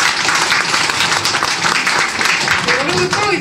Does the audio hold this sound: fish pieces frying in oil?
no